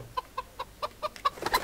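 Chickens clucking in the Kingdom Come Deliverance video game, a series of short evenly spaced clucks that grow louder and denser toward the end, with no talking.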